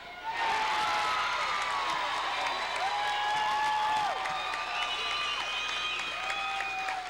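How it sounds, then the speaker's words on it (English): High school basketball crowd in a gym at Fieldcrest High School, cheering and clapping loudly and continuously, with shrill shouts and whistles sliding over the roar. "The crowd is up, the crowd is alive here at Fieldcrest High School."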